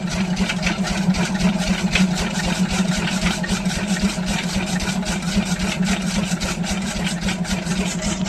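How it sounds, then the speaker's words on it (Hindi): A diesel engine drives a fodder chaff cutter on a village farm, a loud, steady rumbling drone with a fast chugging pulse that runs without pause and with no talk. "थोड़ा सा डीजल लगता है इस इंजन को चलाने के लिए"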